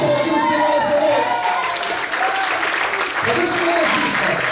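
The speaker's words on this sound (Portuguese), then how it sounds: "Você pode aplaudir o Senhor nessa noite." Church congregation applauding during worship, steady sustained clapping from a crowd with voices and music-like tones mixed in underneath.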